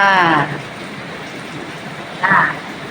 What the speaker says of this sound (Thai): จะได้ยินเสียงฝนตกนะคะ